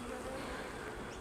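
Honey bees drone steadily at a hive, a dense, close hum filling the brief moment with no other sounds standing out.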